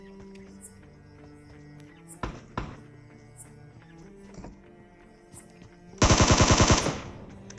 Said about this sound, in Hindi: साइड में ही मुझे फायर का साउंड आया